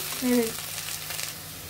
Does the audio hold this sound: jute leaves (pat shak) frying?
yes